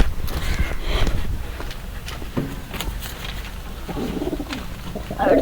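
Pigeons coo in soft, low, repeated calls nearby, with scattered rustling and light tapping sounds around them.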